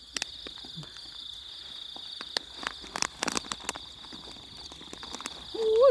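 A dense chorus of many crickets chirps steadily and shrilly in the open air at night, with occasional clicks and rustles from someone moving nearby.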